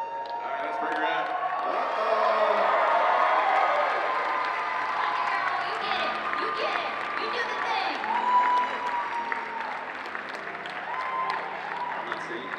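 A crowd cheers and applauds loudly at a cosplay competition, with sustained clapping, whoops and shouts swelling early and then holding steady, and an announcer's voice mixed in.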